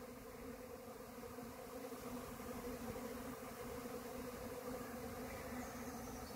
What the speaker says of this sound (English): Swarm of bees moving in.